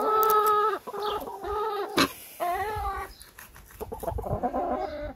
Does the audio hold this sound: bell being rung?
no